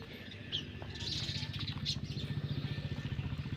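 House sparrows eating millet chirp in short bursts in a village farm setting while a motorcycle or small engine putters steadily underneath.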